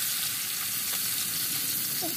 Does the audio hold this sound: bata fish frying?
yes